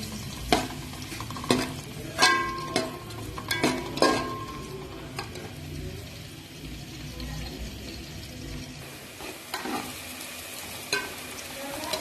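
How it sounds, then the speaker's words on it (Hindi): Onions fry in reused cooking oil in a pan, hissing steadily up close while a spoon clacks against the pan in a quick cluster of stirs, then the sizzle carries on alone. "ये सारे प्याज इसमें डाल के फ्राई करूंगी हल्का गोल्डन होने तक"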